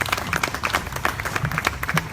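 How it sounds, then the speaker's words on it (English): A county fair crowd claps for visiting fair royalty stepping onto the stage at a queen coronation, a dense, lively patter of many hands throughout, close and steady with a little crowd murmur. "You can give them a round of applause as these lovely ladies in the surrounding area step up to"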